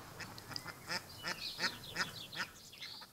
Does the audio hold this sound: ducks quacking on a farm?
yes